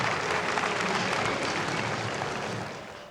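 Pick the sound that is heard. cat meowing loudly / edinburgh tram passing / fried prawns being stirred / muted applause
muted applause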